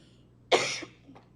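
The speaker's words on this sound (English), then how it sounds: "I'm going to cough one more time." A single loud, raspy cough from a presenter at an Aurora city council meeting, a short harsh burst followed by a softer trailing catch, with quiet room tone before and after.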